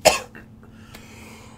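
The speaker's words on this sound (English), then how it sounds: "I really had to cough." A single sharp cough bursts out at the start, close and loud, then fades into a quiet room with a faint steady hum and a few soft clicks.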